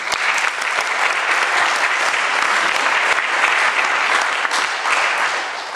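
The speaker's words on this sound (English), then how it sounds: "Please give them a little round of applause." Sustained audience applause at a political event, loud, dense and even clapping filling the room, easing slightly at the very end.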